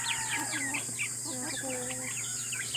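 A hen clucks and chirps among other chickens in a farmyard, short repeated calls close by over steady background noise.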